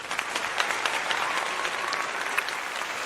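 Audience applause after a presentation-skills talk, a dense steady wash of many hands clapping close and loud, filling the full three seconds without voices.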